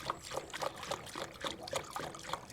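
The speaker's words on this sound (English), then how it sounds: "Let's first of all tip the sealer into a little paint kettle." Rizistal paving sealer is tipped from its container into a small paint kettle, a gurgling, glugging pour with rhythmic bursts of liquid, close and fairly quiet, no voices.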